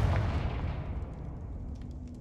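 A Confringo fire spell bursts in Hogwarts Legacy, a loud, deep explosive boom at the start that rumbles and fades away over about two seconds, with no voices.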